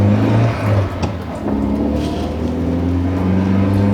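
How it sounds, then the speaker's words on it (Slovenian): A Volkswagen Golf GTI Edition 50 with a naturally aspirated engine holds a loud, steady engine drone from inside the car, with the revs lifting and settling slightly. "Še za današnje standarde ta atmosferski motor deluje zelo živahno"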